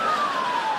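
Single siren tone from a fire brigade vehicle, a steady wail that slowly falls in pitch over under a second, moderately loud against a busy background with no talk.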